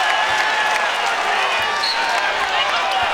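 A packed basketball arena crowd roars steadily during a UCLA versus Oregon college game in December 2016, a dense continuous wash of cheering with no breaks.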